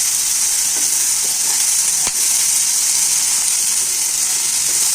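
Mixed vegetables sauté in a pan for sambar rice, giving a loud continuous sizzle and hiss with a few stirring knocks, and no voices.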